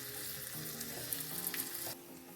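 Chilli powder and turmeric sizzle in hot oil as a tadka for a garlic-fenugreek dish, a continuous close, crackling fry with light stirring.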